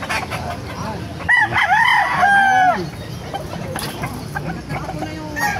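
A rooster crows loudly nearby in a long cock-a-doodle-doo at a market in Bocaue, Bulacan, then other chickens crow and cluck further off while someone speaks briefly.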